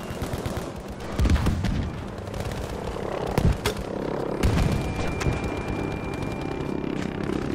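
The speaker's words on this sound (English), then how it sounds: "Oh, the airstrike's coming down." Airstrike explosions in the Battlefield V video game, with repeated heavy booms and crackling gunfire rumbling continuously in a dense, loud battle mix and no clear speech.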